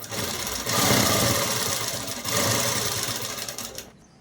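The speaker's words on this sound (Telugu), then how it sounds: "ఇప్పుడు అసలైన క్లాత్ లోపలికి, లైనింగ్ క్లాత్ బయటికి వేసేసి కుట్టు వేసేసుకోవడమేనండి." Sewing machine stitching dress cloth together with its lining, a steady whirring run broken by a brief pause, then continuing before stopping abruptly.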